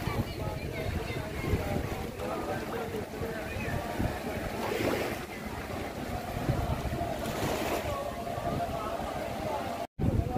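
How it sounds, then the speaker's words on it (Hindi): Ganges river water laps at a ghat in Varanasi where rows of boats are moored, a continuous washing rumble with wind noise and faint voices in the background. "लहर मार रहा है गंगा जी का"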